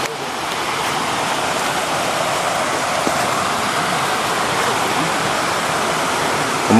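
Loud, continuous roar of a waterfall and rushing water, heard up close as a dense, unbroken wash of noise that stays steady throughout with a small bump at the very end.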